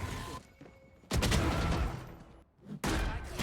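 Bursts of Odin machine gun fire in the video game Valorant come as two long, dense sustained volleys separated by a brief pause, loud and close, with softer game sounds before the first.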